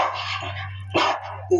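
A performer in a Ramlila stage play imitates a dog, voicing a few loud, close barks and yelps: a rough barking stretch first, then two short sharp yips.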